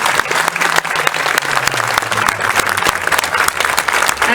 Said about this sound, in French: Martine, Patrick, Rodolphe, Pernel, je voudrais que vous les applaudissiez aujourd'hui